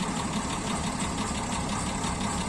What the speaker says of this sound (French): le moteur il tourne comme le mien